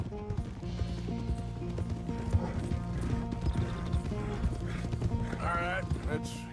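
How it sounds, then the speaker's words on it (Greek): Horse hooves clip-clop at a steady walking rhythm in the Red Dead video game, close and fairly loud over background music and game sounds, with a brief whinny near the end. "Αν και το δικό μου άλογο πρέπει να είναι το πιο ακριβό άλογο που υπάρχει."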